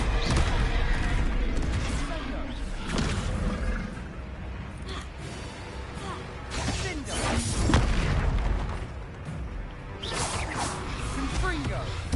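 Confringo blasting spell from Hogwarts Legacy going off repeatedly in a dense, loud game fight, with booming blasts, roaring creature noise and whooshes layered under spoken voices for the whole stretch.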